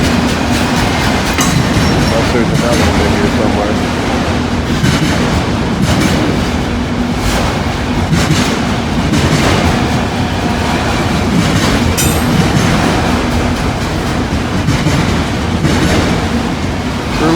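A freight train with an articulated car rolls past close by in a steady loud rumble with rhythmic clickety-clack of wheels over rail joints, while someone speaks briefly over it.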